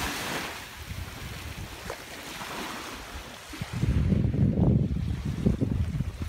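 Waves washing onto a small beach at high tide at Pass-A-Grille, a soft wash of surf under wind noise on the microphone, swelling louder toward the end.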